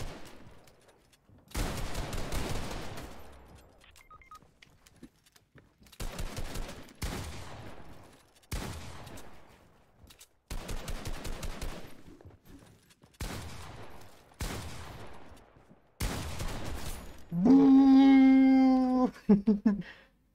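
Bursts of gunfire from the battle royale game Fortnite during an FNCS tournament finals match, coming in repeated loud volleys separated by short pauses, with a brief harsher tonal burst near the end.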